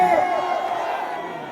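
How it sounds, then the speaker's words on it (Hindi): A crowd at an outdoor political rally in Bihar cheers and claps, a continuous roar of voices and applause with a loud amplified voice carrying over it. "उठाओ दोनों हाथ और तालियां बजा के"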